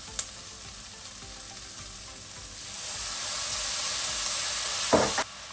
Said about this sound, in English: to fry some red oil out of the chili paste